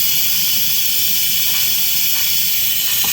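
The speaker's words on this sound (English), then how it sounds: "Getting ready to pop the pressure off the pressure pot." Loud, steady hiss of steam escaping as pressure is let off a kitchen pressure pot used for cooking radishes, a continuous close rush of noise with faint clicks underneath and no talking.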